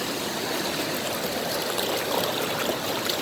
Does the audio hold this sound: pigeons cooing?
no